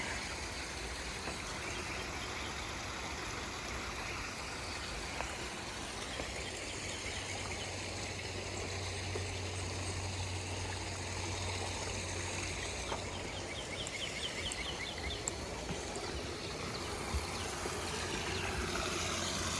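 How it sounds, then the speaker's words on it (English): A small waterfall at the Saluda Mill ruins gives a constant soft, even rush of falling water. It stays fairly distant and low with no voices. "It's like a little waterfall."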